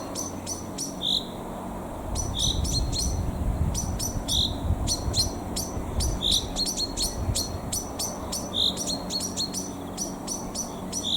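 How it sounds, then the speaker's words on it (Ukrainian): A bird repeats a short, sharp high call every second or two, ringing out clearly over a faint outdoor background with other soft chirps. "Цікаво, що це за птаха кричить."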